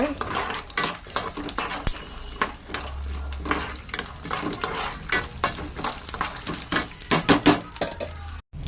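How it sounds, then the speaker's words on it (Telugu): Tempering spices for rava pulihora sizzle in a hot pan under repeated clinks and scrapes of a metal spoon stirring, close up and busy, with occasional quiet background talk. "పోపు అయితే కొంచెం ఫ్రై అనమాట"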